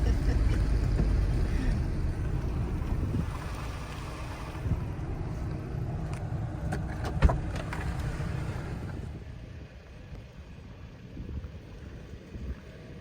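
A 1999 Toyota Tacoma 4-wheel drive with a rear locking differential climbs an off-road hill, its engine a steady low rumble under heavy wind buffeting. A sharp knock comes midway, and the engine eases off toward the end.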